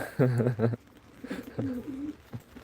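Pigeons coo in a garden, a loud near throaty burst of coos first, then softer, more drawn-out cooing with a brief last note; no talk.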